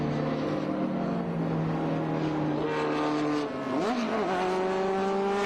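Vintage race cars coming down a hill on a racetrack with a commentator, their engines making loud, sustained droning tones that shift in pitch as the cars pass, one rising and falling sharply near the end.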